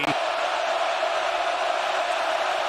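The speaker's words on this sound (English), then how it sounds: "a crowd cascading with a roar in his face" A dense, steady roar of a large football stadium crowd at a Colorado Buffaloes versus Oregon Ducks game, loud and continuous with no distinct voices standing out.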